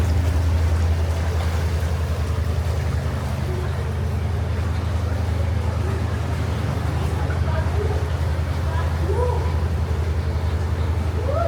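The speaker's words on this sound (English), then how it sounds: "I think we're gonna catch this other boat as it goes through the tunnel" A canal boat engine drones steadily at close range inside a narrow tunnel on an aqueduct route in Wales, a constant low rumble with faint knocks and hollow echo throughout.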